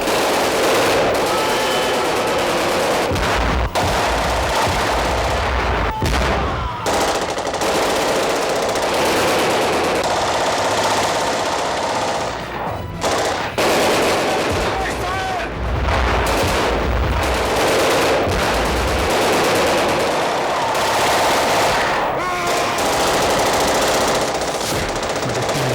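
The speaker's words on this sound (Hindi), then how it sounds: "अचानक गोलियां चलने लगी।" Gunfire in a horror audio drama, a dense sustained barrage of rapid shots and booms filling the whole stretch, loud and continuous with only brief dips.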